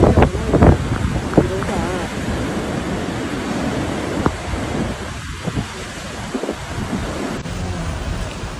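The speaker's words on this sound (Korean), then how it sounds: "바닷가에는 무려 5m에 달하는 거대한 파도가 일었습니다." Typhoon Kajiki hits the coast at Sanya, China, with roaring wind buffeting the microphone and the heavy rush of surf from waves reaching five metres, forming a continuous loud, gusting wash, with a voice faintly present beneath.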